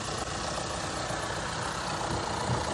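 A car engine suffering from low or dirty oil idles with a steady, close mechanical rattle and clatter layered over the running hum, constant and unbroken with no talking.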